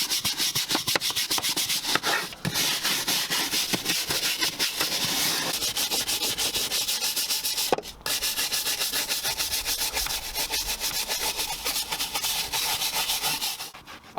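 A stiff-bristled Tough Shine tyre brush scrubs the plastic flooring of a filthy work van footwell, making a loud, continuous, close scratchy rubbing with rapid back-and-forth strokes and a few brief pauses.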